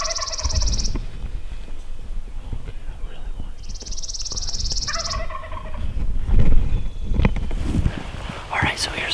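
A wild Merriam's turkey gobbles in open Nebraska country, two rattling gobbles at a moderate distance, heard over wind noise and quiet whispered talk nearby.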